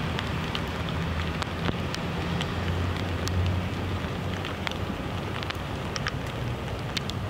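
Steady rain falls at night in an outdoor setting, a dense continuous hiss with scattered sharp drop taps, fairly loud and unbroken, with no voices.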